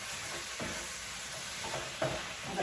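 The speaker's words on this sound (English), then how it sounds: "I'm gonna get that mixed in." Spiced sloppy joe meat mixture being stirred in a pan, with soft scraping strokes and a low sizzle running steadily underneath, close by and fairly quiet.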